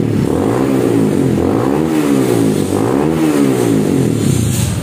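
A Honda Supra GTR motorcycle's loud engine revs repeatedly through a carbon aftermarket exhaust, rising and falling in pitch several times, with a deep rumbling exhaust close by.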